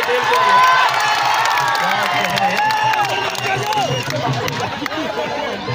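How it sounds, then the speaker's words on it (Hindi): Spectators at a kabaddi match applaud, cheer and shout loudly in a busy crowd, with an announcer's voice running continuously over the noise throughout. "एक बार दर्शक जोरदार ताली बजा दे बेटियों को देख कर।"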